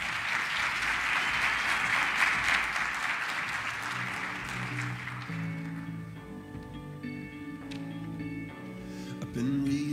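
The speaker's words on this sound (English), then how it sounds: "a great round of applause." A conference audience in Peoria claps loudly and densely for about five seconds at an Illinois travel and tourism event, then the clapping thins out as music with sustained tones takes over.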